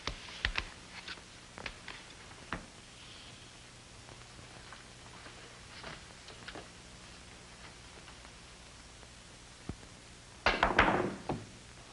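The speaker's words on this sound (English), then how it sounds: "the 7 ball in the corner pocket" Billiard shot in an old-time radio comedy: scattered soft knocks and clicks of the cue and balls, then a louder clattering burst near the end as the 7 ball drops into the corner pocket, faint and without talk.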